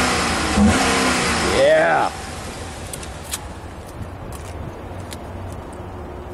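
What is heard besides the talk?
2009 Holden Commodore SS-V V8 engine running and revving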